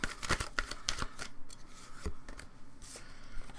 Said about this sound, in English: That's the problem with shuffling, like, over top of your cards